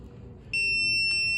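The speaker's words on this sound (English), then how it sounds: "All right, here are the beeps." A steady high-pitched electronic tone from an Eggtimer Quark rocket deployment board during a ground test switches on and holds, with a brief extra beep near the end, over low background hum.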